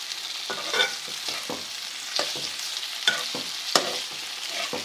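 Potatoes and onions fry together in a pan over a low flame, giving a steady close sizzle broken by a run of sharp scraping clicks as a spoon turns them, with no one talking.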